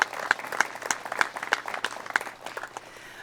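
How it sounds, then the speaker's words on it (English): A small gathering at a military heritage exhibit launch claps for the partners, a sparse, lightly rhythmic applause with distinct individual claps that tapers off toward the end. "can you give a big hand of applause to all of these people?"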